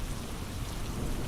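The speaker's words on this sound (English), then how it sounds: "the thunder and rain will linger a little longer, keeping you company in the quiet of the night" Steady rain pours down with a low rumble of thunder rolling underneath, a dense, even wash of sound with no voices.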